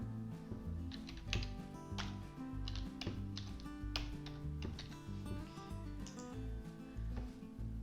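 Keys on a computer keyboard tap out a login, with light, irregular clicks sitting under a dense, continuous musical background that partly masks them.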